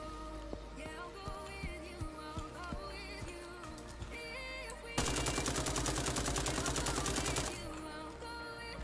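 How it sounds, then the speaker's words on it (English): An AK rifle is mag-dumped in a single-player Tarkov-like shooter: a rapid, sustained string of automatic gunfire lasting a couple of seconds, set between quieter stretches of game ambience and footsteps. "Mag dumping in this game is sometimes surprisingly effective"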